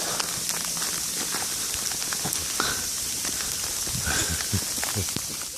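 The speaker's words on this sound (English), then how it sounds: "I can hear the sleet in the trees." Sleet strikes trees during a Charleston blizzard, a constant fine ticking and hissing patter with scattered sharper drops, heard alone and fairly close.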